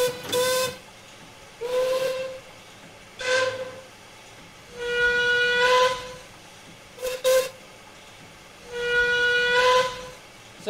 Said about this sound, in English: should we blow the whistle?